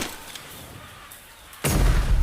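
A sudden loud blast bursts in after a quiet stretch, a booming explosion in the game Animal Company that rumbles on heavily to the end.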